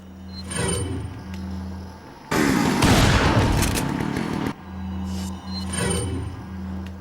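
Gunfire from the survival horror game Resident Evil 4 as enemies are shot, a loud dense burst of rapid shots lasting about two seconds, set between quieter stretches of game ambience and footsteps.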